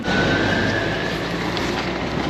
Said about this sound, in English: that's our bus going off down there